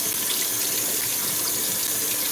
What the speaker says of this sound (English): So we just gonna use straight cold water.